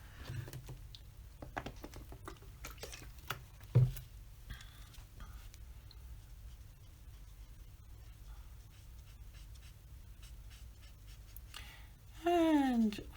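Ohuhu colorless blender marker nib dragged over paper, a quiet, steady rubbing with faint scratchy strokes against low room hum, followed near the end by a brief louder squeaky burst.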